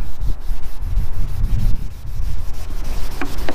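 Headlight being rubbed by hand with Meguiar's PlastX polish, a close, steady scrubbing in rhythmic back-and-forth strokes with no talking.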